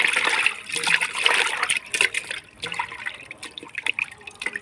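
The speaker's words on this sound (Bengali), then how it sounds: "মাছের ভিতরে দিয়ে ভালো করে মাছ ডলে ডলে ধুয়ে" Small pabda fish rubbed and washed by hand under water, with close irregular splashing, trickling and dripping, loud at first then quieter and more broken, no talk.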